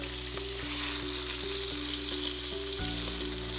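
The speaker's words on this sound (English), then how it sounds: "As you can hear that sizzling, that's the most important part." Chicken sizzles steadily in hot oil, a dense crackling hiss with faint periodic clicks, close and continuous without any talking.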